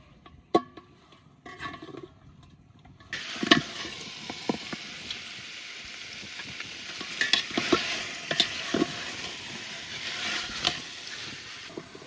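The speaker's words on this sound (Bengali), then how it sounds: "এবার মাঝারি আছে জাল দিয়ে মাংসটা একটু কষিয়ে নেব" Rooster meat stir-fried in hot oil in a pan over medium heat for village-style pulao: after a few quiet clatters, a steady loud sizzle starts, broken by repeated scraping and stirring knocks from a spatula.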